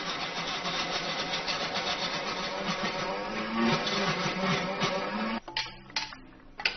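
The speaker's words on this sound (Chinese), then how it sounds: "放进搅拌机" A blender whirs steadily as chicken breast and a little water are ground into a paste, the motor droning loudly before stopping abruptly and followed by brief knocks.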